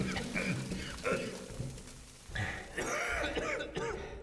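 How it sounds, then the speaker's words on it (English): Several people coughing and breathing hard in a dramatized fantasy audiobook scene, a string of close, harsh coughs and gasps in bursts, with some voices mixed in. "There was coughing and panting everywhere"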